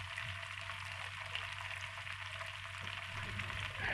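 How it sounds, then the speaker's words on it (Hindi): Cabbage sautéing in a pan with garlic-ginger paste for egg fried rice, giving a steady, even sizzle and frying hiss that runs unbroken throughout with no voices. "मैंने बंद गोभी इसमें ऐड कर दी थी और इसे अच्छी तरीके से मैं सौते कर रही हूँ"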